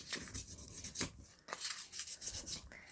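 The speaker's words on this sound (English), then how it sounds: "So I'm just going to give it a bit of a sand on the edge." Edges of small metal earring pieces sanded by hand, close rhythmic rasping strokes in short bursts with brief pauses between them, no voices.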